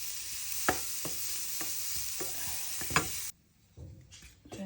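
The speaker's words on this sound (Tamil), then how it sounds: "தேங்காய் பூ நல்ல பொன்னிறமாக வாட்டுப்பட்டு வருது." Grated coconut dry-roasting in a pan for a Sri Lankan spicy pumpkin curry, a steady close hiss with several sharp scraping stirs, then the sizzle drops away abruptly near the end.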